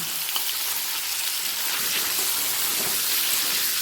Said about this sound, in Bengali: পনিরটা হালকা লাল করে ভেজে নেব